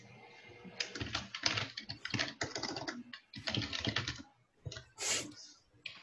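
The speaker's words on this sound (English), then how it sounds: "Typing is happening." Quiet keyboard typing during an online weekly meeting: bursts of quick key clicks separated by brief pauses, soft and close, with no talk.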